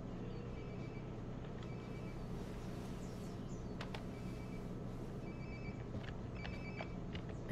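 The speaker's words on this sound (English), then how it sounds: "Sounds like my phone is definitely nearby." A mobile phone rings nearby in the video game Life is Strange: Before the Storm, a faint repeating electronic trill over a steady ambient background, with no talking.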